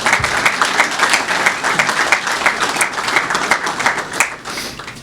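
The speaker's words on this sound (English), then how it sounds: "Yeah, round of applause." A crowd at a university press conference announcing a new athletics director claps loudly and steadily. The dense applause rolls on without a break and stands alone, with no talk over it.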